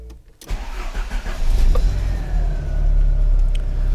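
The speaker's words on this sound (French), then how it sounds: "Déjà le démarreur tourne beaucoup plus vite, donc je suis quasiment sûr que ça m'a réparé ce souci." Volkswagen Corrado G60 with a newly refreshed starter motor cranking briefly, then firing up into a close, loud, rumbling idle that settles and holds steady, with no talking.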